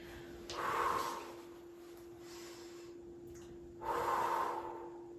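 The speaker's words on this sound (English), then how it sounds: "Go ahead and breathe really loudly." Two loud, deliberate breaths puff out close to the microphone during a dead bug core exercise, separated by a quiet pause, with a steady electrical hum underneath.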